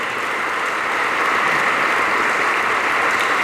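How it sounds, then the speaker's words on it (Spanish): A church congregation at Sunday Mass applauds in a dense, even wash of clapping that stays loud and unbroken throughout. "un aplauso para la Virgen."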